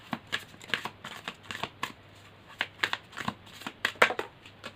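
Tarot cards being shuffled and drawn for a reading, with a steady run of close, crisp riffling and flicking sounds over several seconds and no talk.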